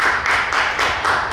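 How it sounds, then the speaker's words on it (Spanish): Audience applause at a live horror literature gathering, a dense steady wash of many hands clapping close by, swelling in waves and filling the room without any talk. "Un fuerte aplauso, por favor."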